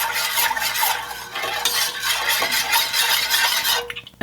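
Sugar syrup being stirred in a pot over medium-high heat, with a spoon scraping and clinking steadily against the pot for a few seconds before stopping.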